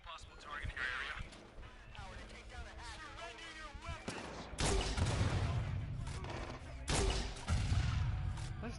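Gunfire and heavy blasts from grenades erupt in a Watch Dogs shootout, loud bursts pounding through the second half over a busy mix with a voice and game effects underneath.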